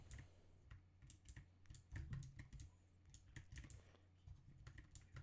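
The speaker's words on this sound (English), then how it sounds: "You can definitely hear my keyboard like tapping away," A loud computer keyboard taps away in a steady flurry of close, crisp keystrokes under a low background hum, with no talking.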